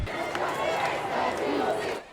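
Protest crowd chanting in downtown Cleveland while marching from the Free Stamp along Lakeside Avenue toward the Justice Center; a steady, dense wash of many voices, moderately distant, continuous for about two seconds with no single speaker standing out.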